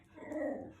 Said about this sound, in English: she hates the word bark, so she barks at you